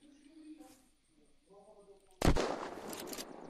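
A single loud sniper rifle shot in the video game Unturned cracks out sharply after quieter background sounds and voices, then trails off in a reverberant tail.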